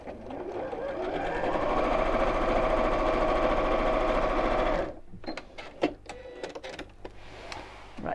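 A sewing machine stitches cushion cover patches in one fast, loud continuous run for about five seconds, then stops, followed by light clicks and fabric handling.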